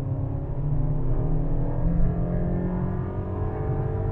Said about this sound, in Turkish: Şu anda arabayı durdurdum ve bir dip gaz yapıp bakalım nasıl gaz açtığını merak ediyorum.